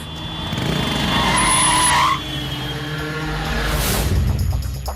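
A car roars off at speed during a movie chase, with a loud engine rush and a sharp tyre skid squeal near the start that settles into a steady close drive.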